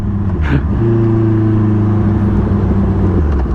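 A car engine drones and revs while driving, held in one gear with a sustained strained tone after a brief shift attempt, loud and close from inside the cabin.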